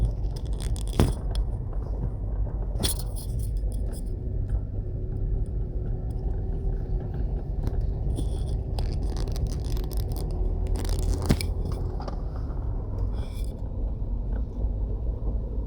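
A car drives along a Jamaican coastal highway under construction, with steady low road rumble and broadband tire noise throughout and occasional brief scraping or clattering knocks, heard from inside the vehicle with no talking.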